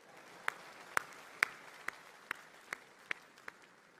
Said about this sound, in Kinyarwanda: mwiha amashyi muri beza we